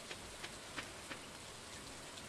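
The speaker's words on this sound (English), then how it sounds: "Storm is... relatively okay, as long as it just rains and lightning hits the lightning rods where it's supposed to go." Steady rain falls during a storm in the farming game Stardew Valley, a soft even hiss with several faint drop-like taps spaced through it, quiet and without voices.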